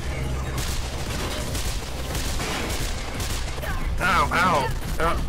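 Enemy gunfire in the video game Mirror's Edge, a dense rattle of shots under a busy game soundscape, with a talking voice partly over it.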